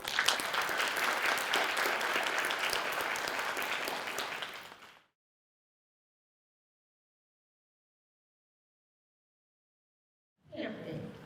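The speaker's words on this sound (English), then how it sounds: "Please join me to giving them a round of applause" Sustained applause from a school division showcase audience for about five seconds, then it stops into silence before a brief burst of sound at the very end.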